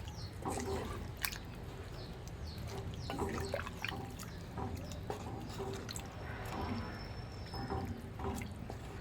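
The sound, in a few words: pouring a pot of water into chicken curry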